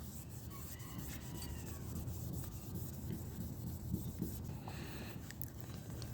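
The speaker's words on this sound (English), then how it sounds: "I'm gonna wipe it with a microfiber cloth" A microfiber cloth wipes across car paint after scratch repair, making a soft, continuous rubbing swish with faint bumps over a low rumble, close up and without talking.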